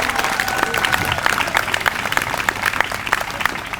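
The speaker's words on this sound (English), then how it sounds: "how about a round of applause for the entire Somerset Dolphins team?" Crowd applause at an Independence Day celebration for a swim team, dense clapping that holds steady, fairly close and loud, with a faint voice briefly underneath.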